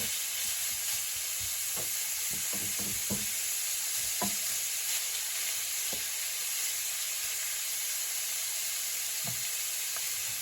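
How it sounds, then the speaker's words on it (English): Ground beef frying in a pan on a stove turned up very high, giving a steady, close hiss and sizzle throughout with occasional faint clicks and pops, no voices. "Here you have my ground beef cooking away nicely"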